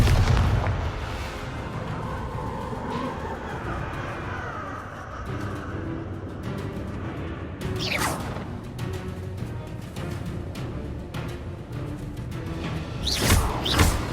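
Fire-blast spell explosions in the Hogwarts Legacy video game: repeated booming blasts and whooshing bursts amid continuous combat noise, with sharp loud impacts near the middle and end, no talk over them.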